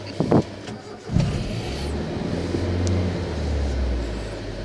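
A car engine idles and hums steadily during a manual driving lesson as the clutch is eased out, with a couple of brief knocks near the start and a low, even drone continuing close by.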